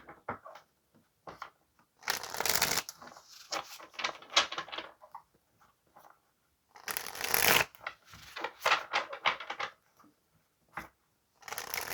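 Tarot cards being shuffled in two bursts of crisp riffling and flicking, close and fairly loud, separated by quiet pauses, with no talking.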